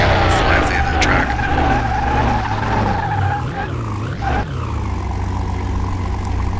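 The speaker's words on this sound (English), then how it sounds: "Go ahead and start braking, and we'll fly off the end of the track." Porsche 911 RS in Car Mechanic Simulator 2021 braking hard at the end of a test track after a run near 200 mph, a loud continuous engine and tyre roar with a scrubbing, skidding sweep partway through.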